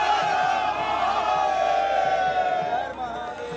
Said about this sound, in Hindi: देश भर के तमाम मंदिरों में सुबह से ही बम बम भोले की गूंज।